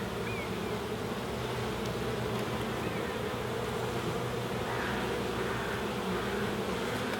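Honey bees crawling over a hive frame with cells being backfilled with nectar give off a steady, dense, close-up buzzing hum that holds evenly for the whole stretch, with no voices.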